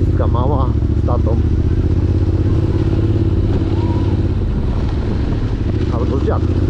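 A small motorcycle ridden by a young girl with her father passes, a loud steady engine drone heard from another moving motorcycle, with someone talking over it throughout.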